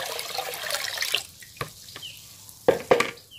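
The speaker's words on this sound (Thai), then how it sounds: "ก็นำมาเทใส่กับน้ำ20ลิตรเลยค่ะ" Mixed liquid fertilizer for lime and fruit trees is poured into 20 liters of water, giving a few quiet splashes and drips with brief gaps of near silence between them.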